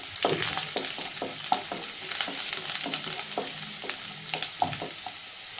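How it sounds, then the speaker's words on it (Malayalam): Garlic sizzles and crackles steadily in hot oil, with repeated scraping stirs of a utensil close by. "ഇനി അടുത്ത് നമുക്ക് വെളുത്തുള്ളി ഇട്ട് കൊടുക്കാം കേട്ടോ"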